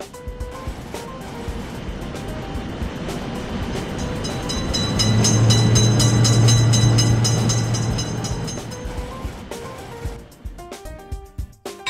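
A train runs through a level crossing with gates for road traffic, its rumble building to a loud, close roar at mid-clip with a steady low hum, then fading away, with a bell-like ringing and clatter around it.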